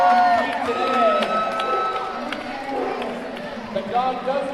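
Spectators at a dog sports championship cheer and clap for a dog after its jump into the water, a continuous crowd roar running under a commentator's amplified voice.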